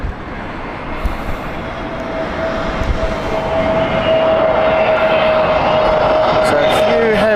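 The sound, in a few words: airliner landing at Heathrow Airport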